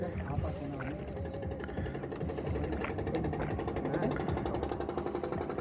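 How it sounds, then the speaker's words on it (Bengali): A motor boat's engine chugs in a steady, close, even drone on open water, holding a constant level throughout. "এই ওই বোটটা আমাদের দিকে সোজা আসছে।"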